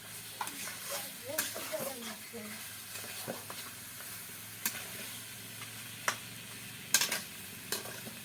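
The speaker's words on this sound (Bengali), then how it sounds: "ভালো করে কষিয়ে নেব" Village-style desi chicken curry sautés in a pan with a steady close sizzle, while a spoon scrapes and stirs in irregular knocks and swishes throughout.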